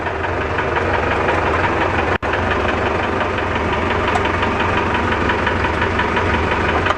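An IMT tractor engine runs steadily in gear with a loud, even diesel chug and knocking rumble, close by, broken once by a brief dropout, with no talking.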